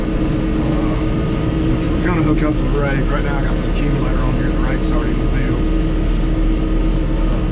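A John Deere 5100 tractor engine runs during hay work, giving a steady, loud diesel rumble that holds constant throughout while someone talks close by.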